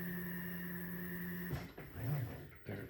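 A Yeti SmartBench CNC router gantry travels across the machine, a steady whirring motor drone with a tonal hum that shifts and stutters as it moves, close by.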